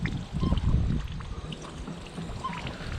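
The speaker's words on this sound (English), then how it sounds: "Looks like your front hose faucet's working." Water running from an outdoor front hose faucet at a house, a low, steady splashing gush close by, with a few faint higher trickles over it.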